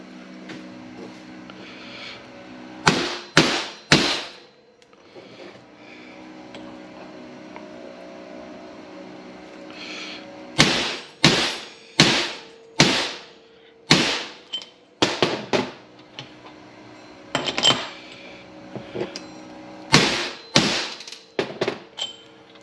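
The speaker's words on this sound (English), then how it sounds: "I'll take an oversized bushing driver to center it down evenly and flat." Loud, sharp hammer blows drive new bushings into a 2003 Chevrolet Corvette 4L60E transmission case with an oversized bushing driver. The strikes come in several tight bursts of three to five, separated by pauses, over a low shop hum.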